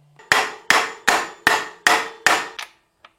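Six evenly spaced, sharp hammer blows ring out close by, driving a composite part into a motorcycle, each strike with a short decaying clang, followed by a softer final tap.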